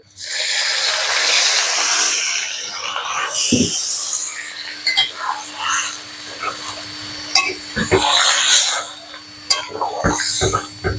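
Hot water pours into a pan still hot from frying vegetables, making a steady loud hiss and steamy sizzle that fluctuates, with a few sharp clanks of the pan.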